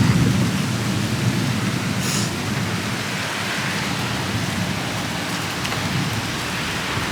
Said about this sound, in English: the rain is coming in